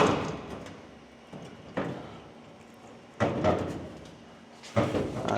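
A Model A car door is worked repeatedly: three or four sharp knocks and latch clunks, each a short thud fading into a dull rustle, spaced about a second and a half apart, close to the microphone.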